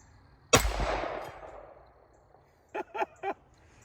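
A single sharp shot from a Nighthawk Predator Recon .45 ACP 1911 pistol, fired outdoors past a target into a hillside, rings out loud and close, then fades in a long echoing tail, followed by a few short, quieter sounds.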